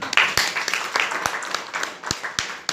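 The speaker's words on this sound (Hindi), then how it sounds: "दोनों के लिए जोरदार तालियां।" Applause at a business plan meeting in a hall, a short burst of lively clapping from the audience with a few sharper claps standing out, fairly close.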